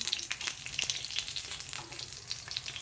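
Alu vadi, colocasia leaf rolls, frying in hot oil and being flipped, a dense crackling sizzle with many small pops throughout, close and steady, with no speech.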